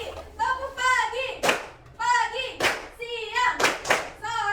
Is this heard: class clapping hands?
yes